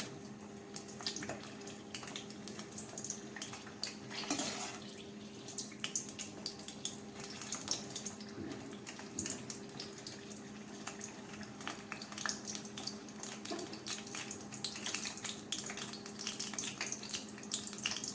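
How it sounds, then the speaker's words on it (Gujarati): Green chillies frying slowly over low heat in a pan, with a faint, even sizzle and light bubbling that continues throughout, plus a low steady hum. "ધીમા તાપ પર ફેરવતા જઈ અને બધી બાજુથી આપણે મરચાંને તળવાના છે"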